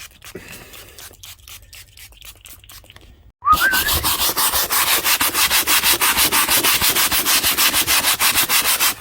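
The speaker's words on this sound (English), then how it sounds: "Give it a bit of a scrub." A Jaguar XJS 3.6 litre door card scrubbed by hand, loud rapid back-and-forth rubbing strokes in a steady rhythm after a quieter stretch of lighter scratching.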